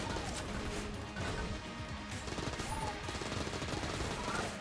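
Gunfire in the Enter the Gungeon video game comes in a chaotic, nonstop barrage of rapid shots and crashing impacts that pile on top of one another throughout.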